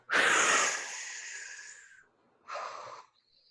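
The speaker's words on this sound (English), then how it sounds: "Deep breath. And blow it out really hard." A single deep breath blown out hard, loud and breathy at first, fading over about two seconds, then a second shorter exhale follows after a brief pause.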